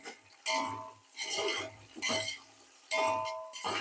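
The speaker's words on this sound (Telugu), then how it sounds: "వీటిని ఒకసారి కలిపిస్తున్నాం." Green peas and carrot stirred in a pan for biryani, with a spoon scraping and clinking against the metal in a few slow strokes over faint sizzling, close and fairly quiet.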